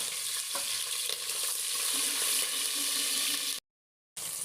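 Whole spices and a bay leaf frying in ghee, a close, steady crackling sizzle with faint stirring scrapes, broken by a brief dead-silent gap near the end.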